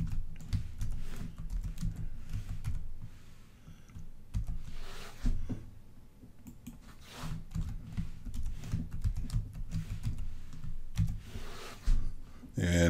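Someone types a password on a computer keyboard in irregular bursts of close clicking keystrokes, with pauses between.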